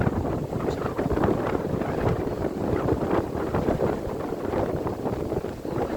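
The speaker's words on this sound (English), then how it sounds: "The wind is picking up." Wind gusting outdoors, a loud, steady roar buffeting close against the microphone throughout, with a rustling texture and no talking.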